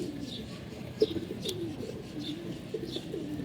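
Pigeons coo softly in a loft of colored fancy pigeons, repeated low murmuring calls over steady background noise, with a few faint chirps and a brief thump.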